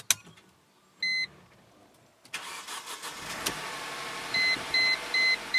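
A Mercedes W203 C230 Kompressor cranks and fires at about 2.3 seconds, then settles into a steady idle, with a short electronic chime before the start and repeated dashboard beeps over the running engine.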